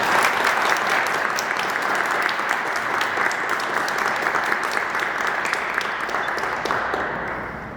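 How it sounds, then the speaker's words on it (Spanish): An audience at an event about the art museum in Celaya breaks into loud sustained applause, dense clapping that carries on for several seconds before slowly fading. "Un fuerte aplauso, por favor."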